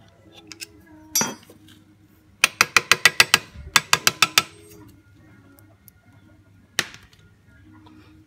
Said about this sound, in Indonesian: selanjutnya kita memasang baut spol